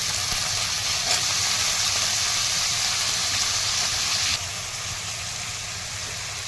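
Tomatoes frying in a pan with ginger and garlic for a dhaba-style dum aloo, a steady close sizzle and hiss that runs throughout, dropping slightly in level near the end, with no talking.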